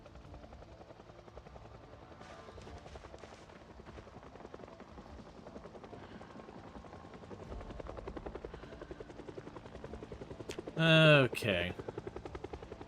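A helicopter in the video game Project Zomboid flies overhead, its rotor throbbing steadily and growing a little louder over time, with someone speaking briefly over it.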